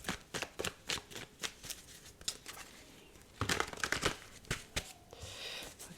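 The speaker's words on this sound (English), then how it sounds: "I was just splitting it to shuffle." Tarot cards are shuffled at close range in a run of crisp riffling bursts and soft flicks, with brief pauses between them and no talking.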